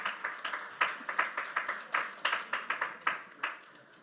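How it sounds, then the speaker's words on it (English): Audience clapping at a lecture and awards ceremony, a steady patter of hands with rhythmic peaks rising and falling across the room, moderately near and continuous, with no voices over it. "Let's keep clapping until he gets here."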